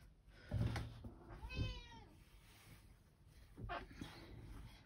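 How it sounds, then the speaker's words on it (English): A pet cat named Snowbell meows several times at close range, with harmonic cries spread through the clip and a lower rustle between them, in a home sewing room. "is meowing for something"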